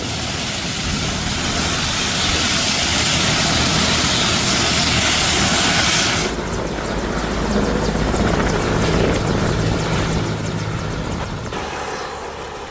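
An Indian Air Force special aircraft carrying exam papers to Akola, Maharashtra, gives a loud, sustained engine and rotor roar that shifts in tone partway through, with no voices.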